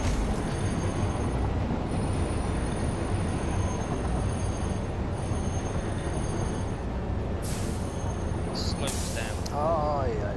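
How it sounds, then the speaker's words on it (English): Train air brakes in the factory-building video game Satisfactory: a loud, continuous rumble of rolling rail cars with sharp hissing bursts of released air near the end, then a short warbling squeal. "What's with the air brakes?"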